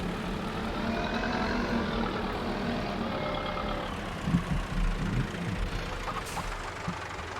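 A heavy engine rumbles steadily, with faint reversing beeps over a low idling drone and no voices, from a tractor being parked in a shed in Farming Simulator 22.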